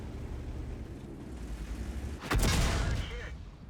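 World of Tanks artillery fire: steady low engine rumble, then a sudden loud broadband blast that rings out and decays over about a second before the drone returns.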